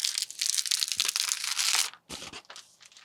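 Protective plastic film is peeled off a PC part in a long, close crinkling tear lasting nearly two seconds, followed after a brief pause by a shorter burst of crackling plastic and no talking.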